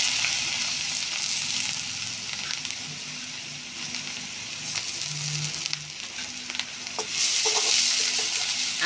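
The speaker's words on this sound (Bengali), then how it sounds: "আদা রসুন পেঁয়াজ ভালো করে কষিয়ে নেব" Crushed onion, ginger and garlic sauté in a pan for a puti fish curry, making a continuous close sizzle with stirring scrapes that turns louder and more hissing near the end.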